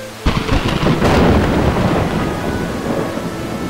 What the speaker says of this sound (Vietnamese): trời mưa to lắm đó